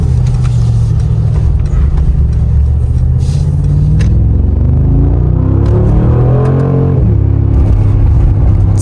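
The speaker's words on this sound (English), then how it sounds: "Sounds absolutely incredible, just like an AMG should, and drives phenomenally." A 2021 Mercedes-AMG G63 4Matic SUV driving, its engine a loud, deep, steady rumble heard from inside, with a rising rev sweep near the end as it accelerates and shifts.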